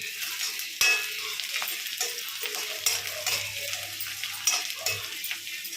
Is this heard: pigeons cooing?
no